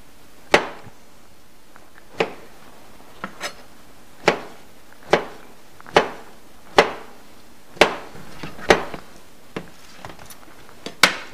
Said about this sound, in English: Chop this up kind of coarsely.